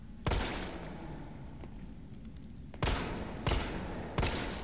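Gunshots fired at a mine in Resident Evil 3, four sharp loud shots, one early then three more in quicker succession near the end, each trailing a short decay, with no talking.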